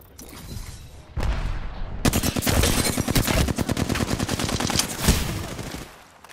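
Automatic gunfire rattles loudly in Apex Legends: a long, rapid burst of shots lasting several seconds, preceded by a few scattered shots and trailing off at the end.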